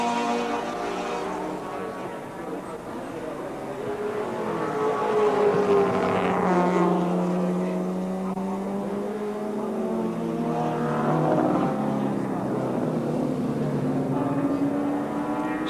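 Group C touring cars race at Wanneroo Raceway, including a Mazda, with engines droning and rising and falling in pitch as they pass, steady and moderately loud over the whole stretch without any voices.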